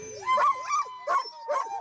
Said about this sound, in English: Jenny Roddewig arrives with her dogs.